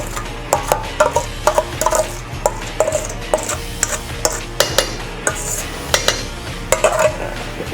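Pepperhash being stirred into bagged coleslaw mix of shredded cabbage: repeated clicks and knocks of a utensil against a bowl come in an irregular rhythm, close by, over a low steady background.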